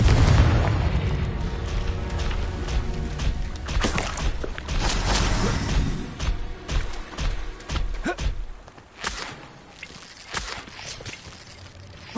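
Spell combat in the video game Hogwarts Legacy, with a Confringo explosion among repeated booming bursts and impacts, loud at first and thinning into scattered pops and thuds toward the end.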